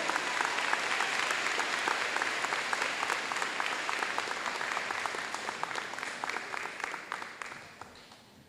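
An audience at a student recognition ceremony honoring the most improved algebra student applauds steadily and densely for several seconds, then the clapping thins and fades toward the end.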